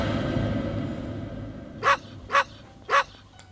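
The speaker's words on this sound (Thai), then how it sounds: "หมาเห่าผี" A dog barks in a horror video game set in a haunted house. Three sharp, distinct barks ring out at a moderate distance over a low droning ambient background.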